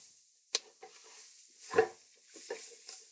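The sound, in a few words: spatula stirring vegetables, garlic and roux in a pot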